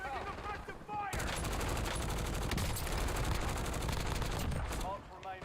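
Video-game gunfire bursts into sustained rapid automatic fire and keeps going for several seconds, loud and dense, with brief game voice chatter before and after the shooting.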